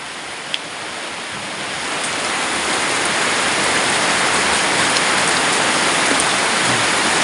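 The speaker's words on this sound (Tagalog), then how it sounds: "Umulan!" Heavy rain pours down outdoors, a dense, loud, steady hiss that swells after the first couple of seconds, with scattered drops standing out and no one talking.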